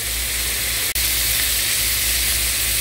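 Green beans frying in a pan give a steady, close sizzle and hiss that stays even throughout, broken once by a brief dip. Nobody speaks.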